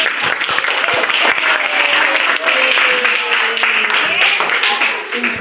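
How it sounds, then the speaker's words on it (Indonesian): Students clapping together in a classroom during a lesson, loud, dense and close, sustained throughout with voices mixed in beneath the clapping. "Tepuk tangan dulu untuk kita."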